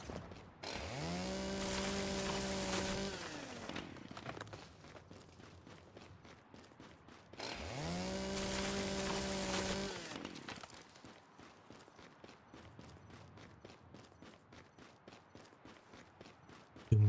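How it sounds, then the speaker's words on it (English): In the video game Once Human, a chainsaw cuts logs in two long, loud bursts of roaring motor a few seconds apart, each separated by quieter stretches of rhythmic footsteps. "I got a chainsaw."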